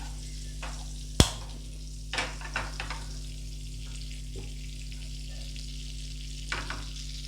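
Two spoons of butter heat in a pan on a medium flame for garlic paneer, a faint, steady low sizzle with one sharp knock and a few light clicks.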